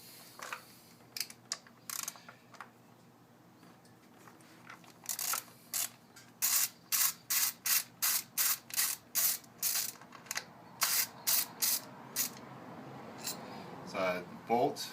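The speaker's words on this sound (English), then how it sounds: "So I just use a standard 10mm socket." Rapid clicking bursts of a ratchet turning a standard 10mm socket on an ignition coil bolt of a 2008 Kia Optima, close up and crisp, in quick repeated strokes with brief pauses between runs.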